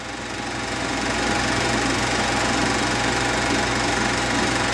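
An Allis Chalmers WD 45 tractor engine runs at a steady, loud, continuous throb with a fast knocking pulse and no pauses.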